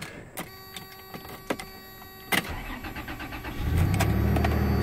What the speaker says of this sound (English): let me go ahead and start it up, because it starts up real good